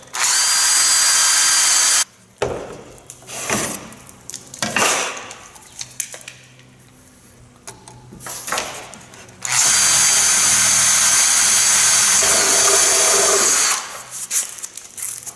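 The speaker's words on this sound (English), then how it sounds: "Using one of these drill and countersink bits so that I'll give the screw a start." A power drill with a drill-and-countersink bit whirs loudly in two long bursts, boring pilot holes for panhead screws in a motorhome, with quieter clinks and scraping of handling between them.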